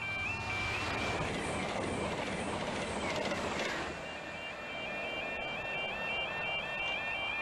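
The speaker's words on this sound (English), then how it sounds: "we've got another train coming the other way as well" A train passes along a railway line in misty Scottish lowlands, a broad steady rumble with squealing, tonal whines running throughout, moderately close and loud, with no talk.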